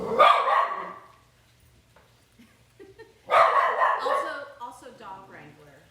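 A dog barks indoors in a kitchen during taco cooking, two loud bursts several seconds apart with quieter sounds between, mixed with nearby talk.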